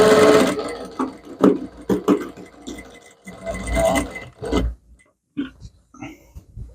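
A domestic sewing machine stitches darts on the back panel of a spaghetti-strap blouse, running in short bursts of a few seconds separated by pauses.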